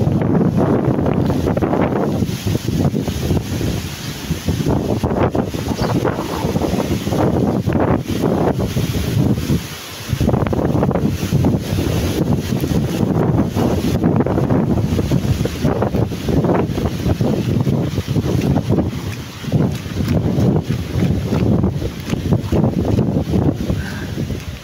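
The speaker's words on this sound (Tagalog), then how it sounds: "Grabe, sobrang lakas ng hangin." Strong, continuous typhoon wind roaring and buffeting against the microphone, with gusting rumbles that rise and fall over the whole stretch, no voices.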